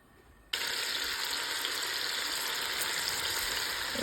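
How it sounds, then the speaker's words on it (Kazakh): Meat dropped into a hot pot bursts into a loud, sudden sizzle after a quiet moment, then keeps frying in a dense, steady hiss without any voices. "Қызып тұрған қазанымызға етімізді салып қуырамыз."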